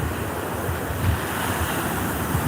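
Ocean surf rolling onto a shore, a steady broadband wash of breaking waves with wind noise buffeting the microphone, continuous and fairly loud with no voices.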